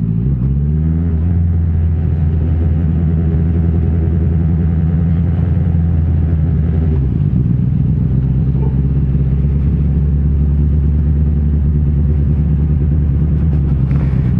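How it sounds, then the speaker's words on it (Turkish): A motorcycle engine runs steadily while being ridden on a snowy road near the Bornova Varyant curve, giving a loud, continuous low drone with a brief dip in pitch midway and no talk over it. "Motor kullanıyorum ben"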